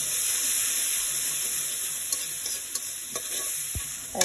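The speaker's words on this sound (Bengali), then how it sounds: "একটু চিংড়ি মাছটি সুন্দর করে ভেজে নিচ্ছি।" Small native shrimp sizzle in hot oil with fried onion and salt while a spatula stirs and scrapes the pan, a steady close crackle punctuated by a few sharp metallic knocks.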